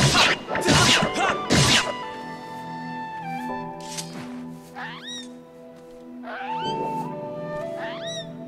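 A cat creature meows in the video game Zelda: Skyward Sword, several rising and falling cries over a sustained musical backdrop, after a few loud hits at the start.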